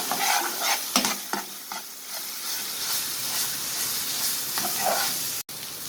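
Beef masala and onions stir-fried in oil in a karahi for beef chatkara, a steady close sizzle and hiss with scraping stirs of the spoon throughout, no voices.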